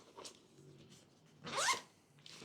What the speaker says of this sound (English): I like these zips actually.